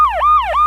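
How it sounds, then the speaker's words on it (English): Rap siren sound effect played by sports podcast hosts: two loud, close wailing swoops, each sliding down then snapping back up, sounding alone. "Every time we make a rap reference, we have to hit the rap siren."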